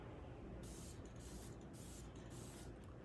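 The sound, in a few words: spray can spraying finish over wood-burned piece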